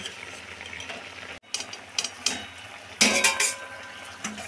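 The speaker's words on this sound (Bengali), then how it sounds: "আর এদিকে পটলগুলো চিনির রসে সেদ্ধ হচ্ছে আরও।" Pointed gourds simmering in sugar syrup in a pan, a soft bubbling hiss broken by several close scrapes and clinks of a utensil against the pot.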